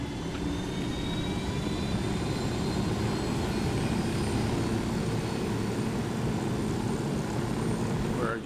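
An aircraft flies in the video game Ghost Recon Wildlands, giving a loud, unbroken engine drone with a rushing roar that holds steady throughout.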